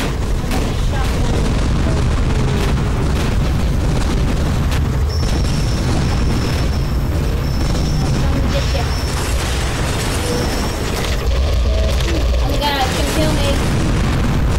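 Missile explosions in the video game Tower of Guns, repeated booms and mechanical bursts layered over constant loud game noise and music, with a voice talking over parts of it.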